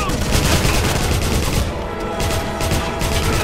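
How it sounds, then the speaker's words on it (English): Sustained rapid gunfire from the 2009 Wolfenstein video game, dense overlapping bursts loud throughout with a brief dip midway, a faint voice underneath. "Suppressing fire."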